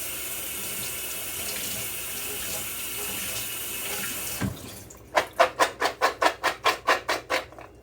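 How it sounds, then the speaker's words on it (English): Running tap water splashes into a kitchen sink as vegetables are rinsed for a crock pot roast, a steady close hiss, then a sharp knock followed by about a dozen rhythmic swishing pulses. "so I'm just going to give these a good rinse"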